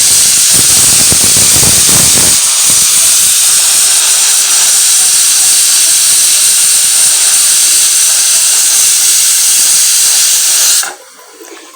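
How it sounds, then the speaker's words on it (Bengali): A pressure cooker whistle releases steam in a loud, continuous high hiss that holds steady for about eleven seconds, then cuts off abruptly to near quiet. "একটা সিটি পড়লো আরও সিটি এখন পড়বে"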